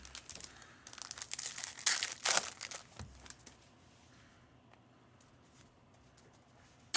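Trading card packs, a composite box break, being ripped open, with bursts of crinkling foil and tearing wrapper up close, louder in the first three seconds and then quieter rustling.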